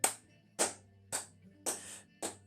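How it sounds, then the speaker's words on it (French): Five sharp hand claps, evenly spaced and fairly close, alone with no talk, from someone entering a room during a tabletop role-playing session. "J'entre et j'applaudis."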